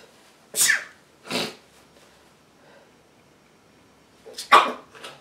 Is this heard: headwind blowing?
no